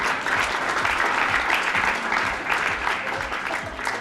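An audience at a student question-and-answer event claps after a correct answer, a steady, fairly close round of applause that holds for the whole few seconds.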